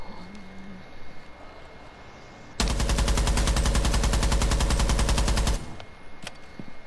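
A burst of rapid automatic rifle fire from Rainbow Six Siege rattles loud and continuous for about three seconds during a recoil-control test, with quieter game ambience before and after.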